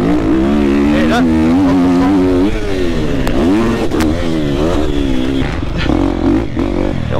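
Triumph TF250-X motocross motorcycle engine revving close by, a steady loud drone with rising and falling pitch sweeps as the throttle is worked, under constant talking throughout.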